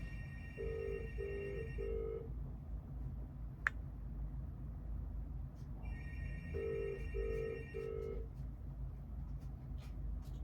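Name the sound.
phone ringing with incoming calls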